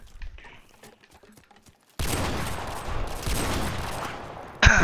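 Rifle gunfire in a shooter video game: a few faint clicks give way to a sustained, dense, loud burst of shots, capped by one sharp, louder blast at the end.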